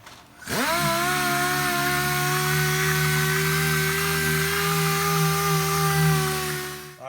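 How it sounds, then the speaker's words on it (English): A power sander working over the quarter panel of a Chevy Impala before primer, a loud steady whining motor hum that spins up sharply, holds an even drone for several seconds, then winds down, no talking. "So we gotta get this sanded out all the way around this entire area."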